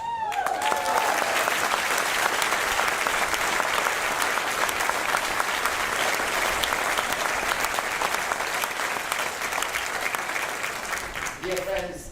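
An audience claps loudly and continuously at the opening ceremony of the Buffalo AKG Art Museum, a dense sustained ovation that fades out at the end.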